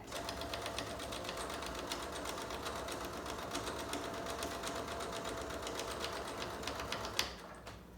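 Faint, steady whirring and rapid ticking of a sewing machine stitching a handmade fabric mask, running continuously for about seven seconds before a sharp click near the end.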